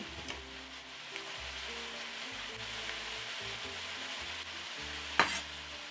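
Chunks of beef browning in a pot for a one-pot beef and rice pilau, giving a steady, moderately close sizzle and frying crackle throughout, with a few scrapes and clunks as pieces are turned.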